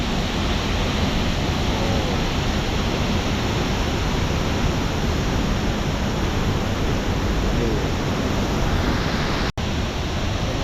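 Heo Suwat waterfall roars with a loud, unbroken wash of falling water, a steady broadband rush that stays even throughout, with no voices over it.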